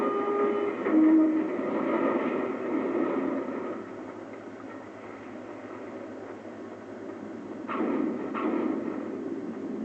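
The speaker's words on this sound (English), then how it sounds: "this lovely cinematic of the bridge collapsing and a train falling into it" A train falls from a collapsing bridge in the video game Half-Life 2 Episode 2, producing a sustained rumbling, rattling roar of rail cars with a sharper crash partway through.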